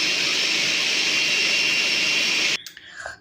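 A blender whirs loudly and steadily while pureeing pumpkin tomato soup, a high motor whine that cuts off abruptly near the end, leaving faint clatter.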